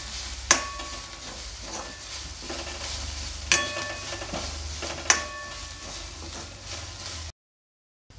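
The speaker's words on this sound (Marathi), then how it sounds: "आता हे आपल्याला चांगलं फ्राय करून घ्यायचं आहे" Turmeric and chili powder fry in a pan with a steady close sizzle, punctuated by three sharp clinks of a spoon stirring against the metal.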